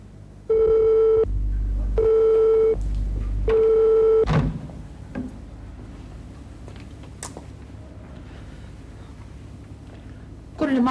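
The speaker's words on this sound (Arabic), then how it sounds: "كل ما اطلب الشركه تديني مشغول" Telephone tones heard while phoning a company from an office, three long steady beeps in a regular pattern, loud and close, followed by quieter room noise and faint movement.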